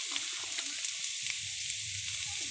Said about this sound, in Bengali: এরপরে বেগুনগুলো ভেজে নিচ্ছি।